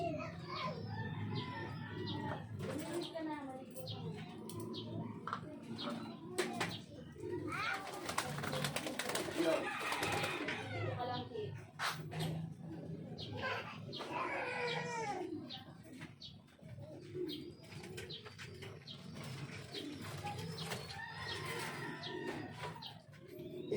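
Pet birds coo and cluck through a steady mix of calls, near and moderately loud, with someone talking over them at times.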